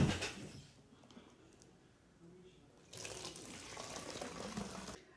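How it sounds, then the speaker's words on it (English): Vinegar streams through a funnel into a plastic pop bottle, a steady splashing pour that sounds like running water, starting loud, easing off, then surging again for the last couple of seconds. "I'm gonna fill it with vinegar."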